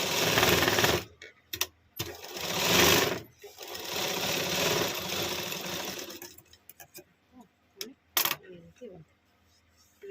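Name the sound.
sewing machine stitching piping dori on a blouse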